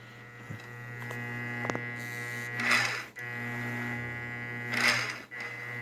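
A G0704 milling machine fitted with new metal gears runs near 2750 RPM, giving a steady electric whine and hum that swells twice under load, with a few faint clicks.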